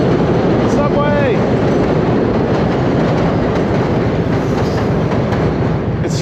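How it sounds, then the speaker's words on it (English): A subway train passes close by, a loud, steady rumbling roar with rail clatter that fills the whole stretch and never lets up. "Subway!"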